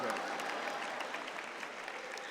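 Commencement audience clapping in a large hall, a dense steady wash of applause that holds at moderate loudness with no voices over it.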